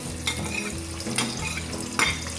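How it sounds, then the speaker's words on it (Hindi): Chopped onions sizzling and frying in hot ghee for a Pakistani-Indian chana daal gosht, a steady crackling hiss with a few louder stirring scrapes, close and alone. "अब ये हमारा ऑयल जो है ये गर्म हो गया, घी हमारा गर्म हो गया, और अब हम इसमें डालेंगे"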